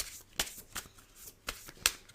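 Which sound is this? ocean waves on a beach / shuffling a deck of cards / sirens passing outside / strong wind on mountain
shuffling a deck of cards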